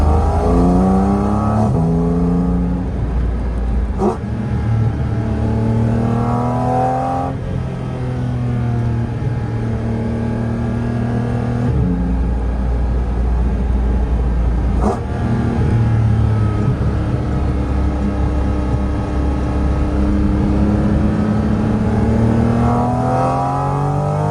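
A Porsche 718 Cayman GT4 RS engine revs up repeatedly through the gears, pitch climbing and dropping with each shift, loud and close throughout.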